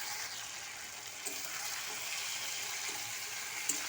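Vegetables frying in a pan with tomato and salt give off a soft, continuous sizzling hiss, low and even throughout, with a faint clink near the end.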